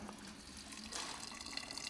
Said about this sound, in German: Heißes Wasser tue ich jetzt hier rein.